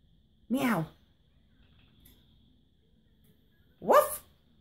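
A person imitates a dog's bark: two short, loud barks about three seconds apart, with quiet in between.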